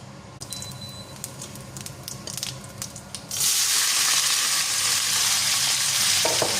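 Boiled, chopped chicken gizzards fry in a pan, starting with scattered crackles and scraping, then breaking into a loud, steady hiss of sizzling oil that fills the rest of the clip.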